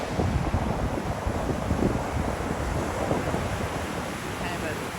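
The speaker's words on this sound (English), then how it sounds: "Get a sense of awe when the waves are like this." Ocean waves break continuously on a beach, with wind buffeting the microphone throughout; a steady, loud wash of surf with no voices.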